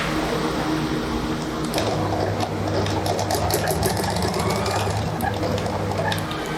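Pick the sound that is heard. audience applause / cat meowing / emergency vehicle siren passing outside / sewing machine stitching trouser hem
sewing machine stitching trouser hem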